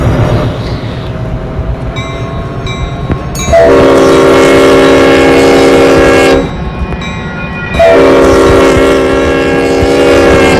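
A loud train passes close by, its rumbling and rail clatter continuous, with two long blasts of the horn sounding over it.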